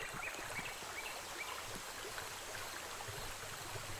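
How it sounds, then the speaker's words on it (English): Waterfall ambience at a ravine overlook in a Dreams video game level: a soft, continuous trickle and rush of water, faint and even, with a few light splashy chirps on top. "I can hear the waterfall,"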